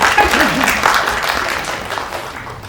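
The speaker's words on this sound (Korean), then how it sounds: "같이 박수를." Audience clapping at a Korean film press screening, a short burst of applause under a speaking voice at the start, fading gradually over a few seconds.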